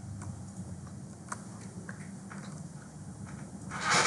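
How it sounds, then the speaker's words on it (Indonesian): Fingers tapping on a computer keyboard while data is entered into Microsoft Excel: light, irregular key clicks at close range over a low steady hum, ending in a brief louder rustle. "Kita ketik dulu datanya seperti ini"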